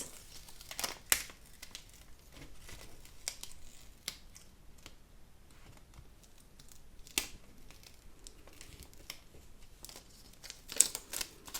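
Excess permanent vinyl is peeled away from its backing for an acrylic bookmark blank, heard as quiet, close crinkling and sharp little tearing snaps scattered irregularly through a soft background, with no talking.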